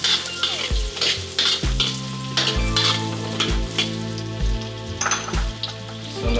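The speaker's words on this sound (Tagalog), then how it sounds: "Iprito na siya." Ginger and carrots fry in a pan for goat kaldereta, sizzling loudly while a utensil repeatedly stirs and scrapes against the metal in irregular clanks.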